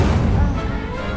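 A burst of flame from the Incendio fire spell in Hogwarts Legacy, loud and close, with a dense crackling roar that holds steady for about a second before easing slightly.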